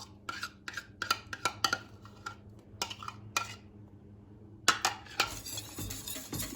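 A spoon scrapes and clinks rhythmically against a pot as gelatin is stirred into boiling milk, with quick close strokes, a brief pause, then renewed stirring over a low bubbling rumble.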